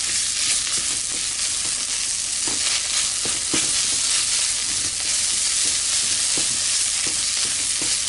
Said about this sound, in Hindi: अब हम इसमें मसाला डालेंगे, धनिया पाउडर, हल्दी, और इनको दो मिनट के लिए पका लेंगे।